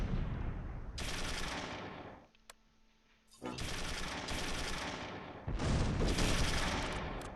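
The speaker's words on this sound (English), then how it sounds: "MG-42 is putting them down." MG-42 machine gun fire in the WWII strategy game Close Combat III: rapid, dense bursts of automatic gunfire, with a roughly one-second lull and a faint single crack before heavier bursts resume.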